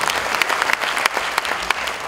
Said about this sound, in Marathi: आय थिंक जोरदार टाळ्या यांच्या पुन्हा एकदा.